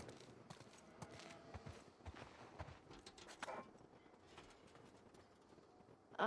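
Horse hooves clip-clop in The Last of Us Part 2, a steady, moderately close walking rhythm over a soft ambient bed, with no talk.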